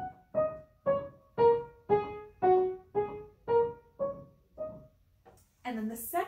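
Short keyboard phrase: about nine separate notes step downward and then turn back up at the end, each cleanly struck and evenly spaced, played alone, with a voice starting to speak right after.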